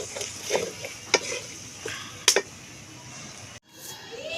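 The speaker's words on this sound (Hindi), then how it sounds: "प्याज को करेंगे हम लोग फ्राई, बस नरम सा ही करना है," Onions fry softly in a kadai over low heat, a faint sizzle with sharp stirring clinks and scrapes of a spoon against the metal, close and fairly quiet.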